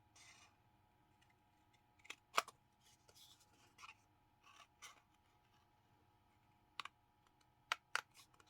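Paper being cut along an arc to form both sides of a pillow box: faint, sparse snips and small clicks scattered over a quiet background.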